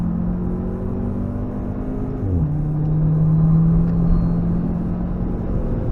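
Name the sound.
car engine at full throttle on the Nürburgring Nordschleife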